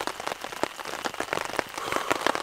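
Heavy rain pours down at a no-tent wild campsite, a dense steady patter of drops striking close surfaces with irregular louder splats, continuous and loud with no voices.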